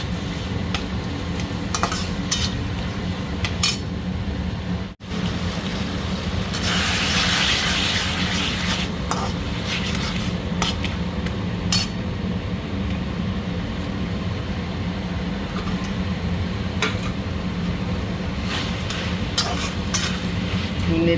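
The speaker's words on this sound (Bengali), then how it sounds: "মশলার সাথে কচুটা ভালো মতন ভাজা হোক।" Taro leaves fry with dry powdered spices and salt in a pan, producing a loud, steady sizzling hiss that runs unbroken for about twenty seconds with occasional crackles.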